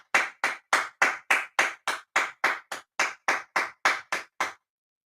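About fifteen loud, sharp hand claps land in a steady, even rhythm, close and clear with no talking, then stop.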